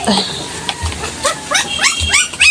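A dog gives a few short yips and whimpers close by, mixed with a person talking in a cheerful, affectionate tone.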